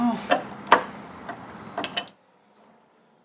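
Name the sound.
removing the high-speed compression valve from a shock absorber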